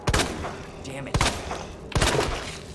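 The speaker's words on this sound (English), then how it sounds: "Take a shotgun to the face, dude." Three booming shotgun blasts from Resident Evil 2, fired close and loud in a slow, evenly spaced rhythm, each one followed by a short rumbling tail.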